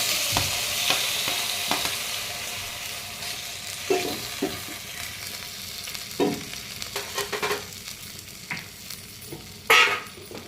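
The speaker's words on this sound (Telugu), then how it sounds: "ఇప్పుడు బౌల్లో తీసుకున్నాక టమాటా వేద్దాం. టమాటా వేసుకున్నాం." Tomatoes sizzling and frying in a pan while being stirred, a steady close crackle with intermittent scraping and clacking of the spoon against the pan, no talking.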